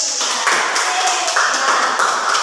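Students in a classroom clap in unison for a classmate, a steady rhythmic patter of many hands with voices mixed in throughout.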